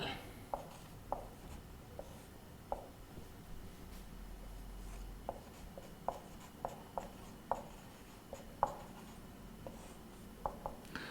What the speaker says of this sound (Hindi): मैं यहाँ हेडिंग लिख लेता हूं